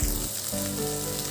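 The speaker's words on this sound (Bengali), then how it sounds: "এবার আমি এর মধ্যে টমেটো দিয়ে দেব।" Chopped tomatoes hit hot oil in a pan for a Bengali potato and cauliflower curry, setting off a loud, steady sizzle and crackle that runs throughout without a break.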